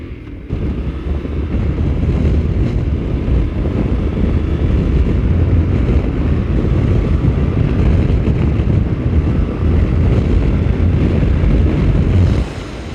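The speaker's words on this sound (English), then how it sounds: "Clean wind, a lot of pressure, buffeting, no buffeting." Steady, loud wind buffeting roars over a rider on a Yamaha Tenere 700 motorcycle fitted with a windscreen, a dense low rumble that holds for the whole stretch without a break.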